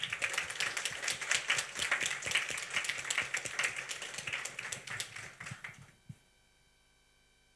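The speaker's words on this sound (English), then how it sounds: "let's give them all a round of applause" Audience applause at an education summit, a dense spatter of many hands clapping at moderate volume for about six seconds before abruptly cutting to near silence.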